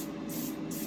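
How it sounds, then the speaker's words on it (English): A steady hiss of canola oil spraying from a can, close and continuous, with slight swells in the high hiss, no voices. "we're going to use our canola oil, our spray"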